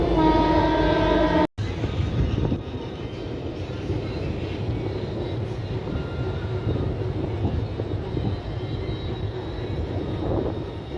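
A new special train from Kolkata to Digha running, a loud, steady rumble of wheels and carriage noise heard from on board, with a horn-like tone at the start before a brief cut.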